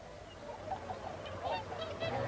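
Whooper and Bewick's swans at the Martin Mere wetland reserve, heard from a hide as repeated honking calls at moderate distance over a steady outdoor background, with no talk.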